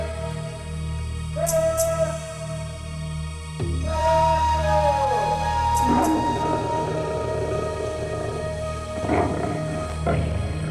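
Lions roaring in the remote wilderness of Kora in northeast Kenya, deep rumbling calls rising and fading over a steady low background, with further animal calls later on.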